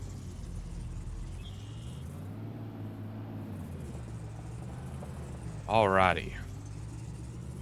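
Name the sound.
old truck engine running, from video game Farming Simulator 25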